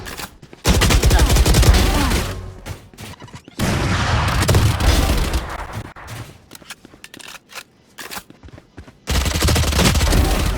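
Raze's bomb explosions and bursts of gunfire in the video game Valorant, loud and dense, in long sustained volleys broken by short gaps, with a brief spoken voice between them.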